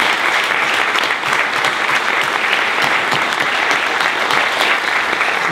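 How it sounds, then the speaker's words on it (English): Steady applause from a room of colleagues at a staff meeting, sustained even clapping from many hands with no talking over it. "Let's have a round of applause for this time."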